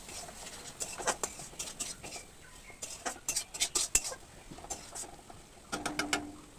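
Metal spoon scraping and clinking in a pan as spiced small-potato curry is stirred and fried, with quick irregular taps and scrapes, faint and close, alongside a soft sizzle.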